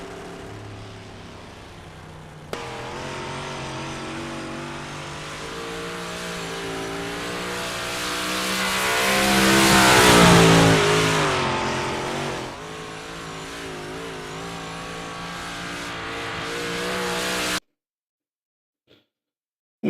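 A race car engine in the iRacing sim drones steadily at high revs, swelling louder mid-way as it accelerates before easing back, then cutting off abruptly into silence near the end.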